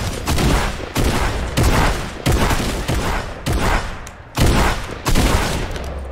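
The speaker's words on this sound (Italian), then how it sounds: "Si sparano dietro di me." Gunfire in the Fortnite video game, bursts of rapid shots repeating in roughly seven loud volleys, each a dense crackling fusillade with short gaps between, no talking over it.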